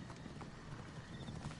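Horse hooves clop at a gallop in the video game Assassin's Creed Origins, a faint steady patter under a soft background wash.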